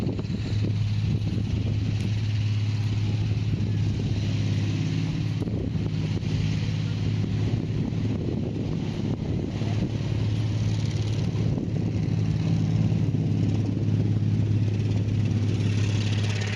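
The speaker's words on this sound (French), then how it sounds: "c'est le bruit du char qui continue sa promenade avec les gens dessus" Tank from a World War II combat video game rolling along with soldiers riding on top, a steady low engine drone and rumble with rough wind-like noise, continuous and fairly loud throughout with no talk.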